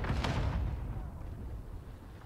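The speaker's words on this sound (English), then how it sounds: "Oh, he rocketed himself." A single rocket explosion in a first-person shooter game: a heavy, close boom that rolls and fades out over a couple of seconds.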